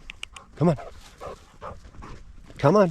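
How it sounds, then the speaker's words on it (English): A hunting dog outdoors gives a few short, excited barks and higher whimpers, loud and close, separated by quieter rustling and movement. "That's a happy dog right there."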